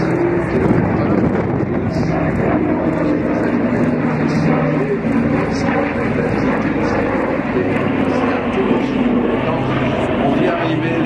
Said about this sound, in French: Le Super Constellation de Breitling est donc un avion qui